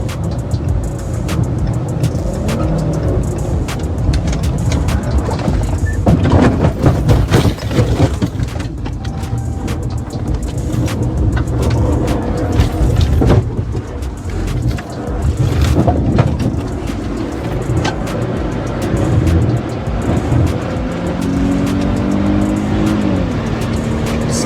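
A car flees with one tire flat after hitting a curb, giving a loud, continuous rumble of engine and road noise that surges and rattles throughout, with no talking.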